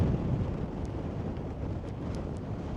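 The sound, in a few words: strong wind blowing on the microphone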